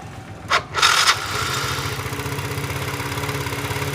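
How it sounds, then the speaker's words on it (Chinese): A scooter engine, just back together after a gearbox and pulley repair, is started with a brief whir and catch, then settles into a steady close idle with an even pulsing throb and no other noise. "除了发动机的正常运转声音，这个皮带轮里面就没有那种异响的情况"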